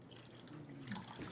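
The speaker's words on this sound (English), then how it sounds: "Watch what happens when I go to pour again." Water is poured onto a tea bag: a brief, quiet, steady splashing pour heard close up, with no voices.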